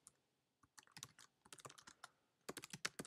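Fingers type on a computer keyboard in short, uneven bursts of crisp clicking keystrokes, quiet and close, with brief pauses between words.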